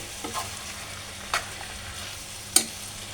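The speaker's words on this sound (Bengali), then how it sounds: "এই তো লাড়া দিয়ে দিচ্ছি, মিক্স করে নিচ্ছি সসগুলো" Chicken gets stirred into sauces in a frying pan over a low, steady sizzle, with three sharp spatula scrapes or clinks at spaced intervals.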